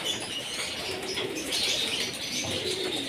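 Racing pigeons at a home coop coo softly while wings flap and rustle nearby, with faint chirps in a steady, busy outdoor bird chorus.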